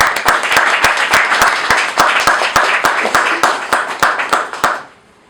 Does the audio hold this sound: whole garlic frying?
no